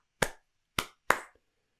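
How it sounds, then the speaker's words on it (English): Two hands clap three times in a quiet room, crisp and close, with uneven gaps between the sharp claps and brief decays and nothing else around them. "I know the sound of two hands clapping."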